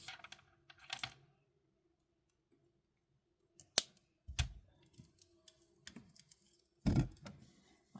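Wire cutters snip beading wire in a few sharp, sparse clicks separated by silence, close and clear, with small rustles and handling taps between the cuts.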